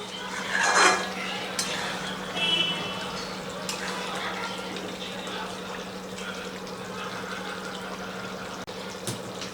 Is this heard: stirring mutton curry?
yes